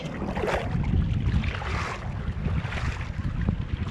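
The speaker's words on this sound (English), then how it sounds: "It's windy." Steady wind rushes and buffets outdoors by the Blue Lagoon in Malta, a constant low roar with gusty swells throughout and no voices.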